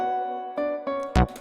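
A low-energy section of a type beat, with a soft sustained pad chord under a few sparse percussive hits and a brighter, louder hit near the end. Short and fairly quiet, without any voices.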